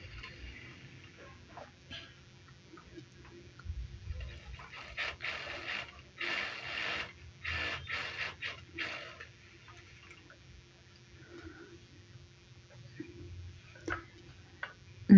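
A sewing machine stitches a princess cut blouse with a quiet, intermittent mechanical ticking. Short bursts of faster stitching cluster in the middle, set against faint background hum.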